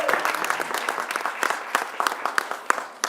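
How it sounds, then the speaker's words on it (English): An audience of business council members and business owners claps at a public event, a short burst of dense, close applause with sharp individual claps standing out as it tapers. "let's give yourselves a round of applause"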